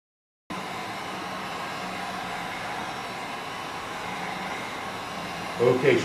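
A heat gun blows a steady, close, even roar as it heats the final drive housing of a BMW R90/6 motorcycle during resealing work, with a few faint knocks near the end.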